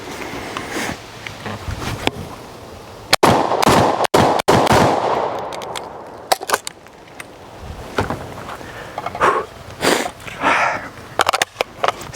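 A Garaysar Fear 125 shotgun being test fired outdoors, giving a few sharp, loud blasts in quick succession, the last two close together, with rustling and handling noise between them.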